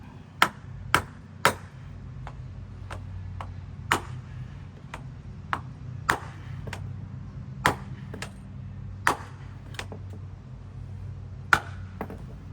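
A hammer strikes repeatedly in a garden landscaping job, about twenty sharp, distinct knocks at an uneven pace, moderately near, with no talk over them.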